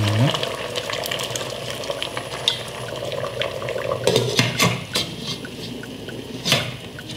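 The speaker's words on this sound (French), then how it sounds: "Donc on met juste un peu d'eau, quitte à ajouter tout doucement." Water poured gently into a cooking pot of Cameroonian fish ndomba, a soft continuous sizzling hiss with scattered clinks and small splashes, up close and fairly loud.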